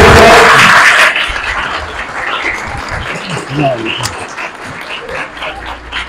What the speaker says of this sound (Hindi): अभी मेहमान हमारे जा रहे तो गुजारिश है तालियां बजाते हुए